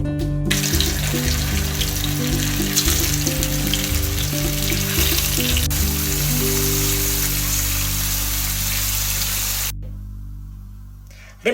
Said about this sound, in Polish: Teraz będziemy posmażać naszą rybkę.